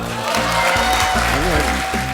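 Audience applause at a Korean political party gathering where co-representatives give acceptance speeches: a steady wash of clapping running the full two seconds, mixed with voices and a sustained tonal backdrop.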